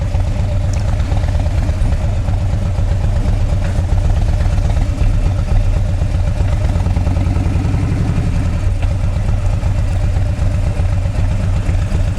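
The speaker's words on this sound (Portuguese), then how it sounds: "Agora, eu vou tentar meter a moto lá dentro." A motorcycle engine runs steadily at close range, a loud low rumble with a rhythmic throbbing pulse and light mechanical clatter, continuing without a break.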